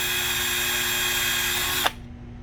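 A power drill runs steadily, enlarging holes in a switch bracket, loud and continuous for nearly two seconds before cutting off abruptly with a brief clunk, leaving only faint room tone.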